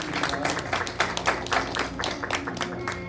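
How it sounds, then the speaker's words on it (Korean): Applause from a crowd at a seminary graduation ceremony, steady clapping throughout with some voices mixed in underneath. "축하합니다. 박수 주세요."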